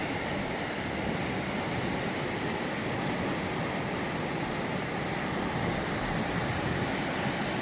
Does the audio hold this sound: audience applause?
no